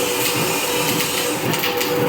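A batasa sugar-candy making machine with a 17-foot belt runs with a steady, loud mechanical whir and rumble, continuous and even throughout.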